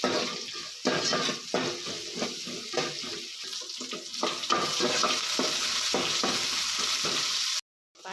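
One large chopped onion sautéing in a hot pan, a loud, continuous close sizzle broken by repeated spatula strokes and scrapes, cutting off abruptly near the end.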